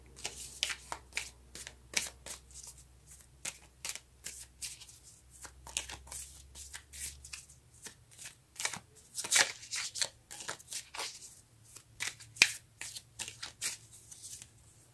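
A deck of tarot cards being shuffled by hand: a long run of quick, crisp riffling and slapping bursts at an uneven rhythm, close and clear with no talking.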